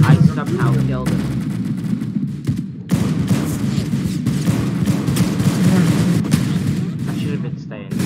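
Gunfire in the Roblox game Arsenal, with rapid bursts and repeated shots from in-game weapons. The shooting is loud and near, and continues almost without a break for several seconds, mixed with other game sounds.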